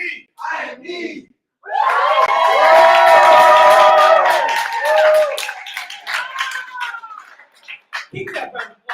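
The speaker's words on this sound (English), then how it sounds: "Keep that round of applause going for David Ross." A crowd at a poetry slam show erupts in loud cheering and whooping, with shouted voices rising over steady clapping before it tapers into scattered claps and calls.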